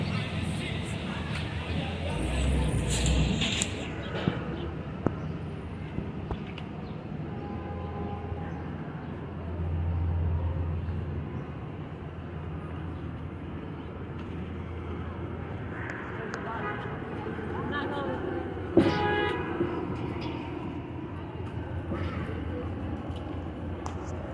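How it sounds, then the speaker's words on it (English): Street traffic in Borough Park, Brooklyn, rumbles continuously with passing vehicles, a brief loud swell midway and sharp noises later, while people talk and chatter nearby throughout. "That's a lot of traffic here in Borough Park."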